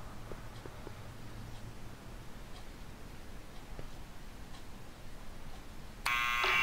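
A buzzer in the Back to the Future video game sounds loudly and steadily for about half a second at the very end, after a quiet stretch of background ambience with faint ticking.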